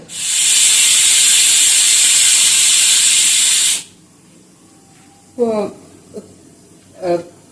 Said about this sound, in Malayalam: കപ്പ ഇട്ടതിന് ശേഷം ഒരു മൂന്ന് വിസിൽ വന്നു